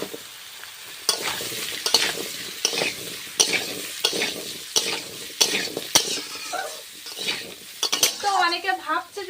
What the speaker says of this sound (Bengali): পাঁচ ফোড়ন দিয়ে দিলাম ওলকপি আলু সবজিটা দিয়ে দিচ্ছি এবার